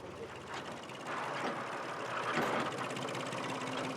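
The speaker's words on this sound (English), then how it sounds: "As soon as they hear the tractor's engine, they gather at the gate." A tractor engine runs on a cattle farm along South Africa's Garden Route. It makes a steady, low mechanical drone that is moderately close, with a faint rhythmic knock, and no talk over it.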